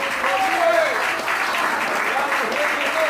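A church congregation claps for the Lord in a continuous round of applause, while a preacher's voice carries over the clapping.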